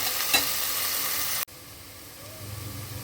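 Onions stirred and sizzling in hot oil, a steady bright fry that cuts off abruptly midway, followed by quieter low rumbling and a softer sizzle.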